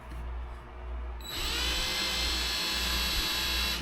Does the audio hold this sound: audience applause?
no